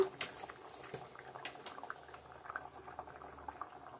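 A pot of egg curry with potato and pointed gourd simmers with faint, steady bubbling and soft popping close by.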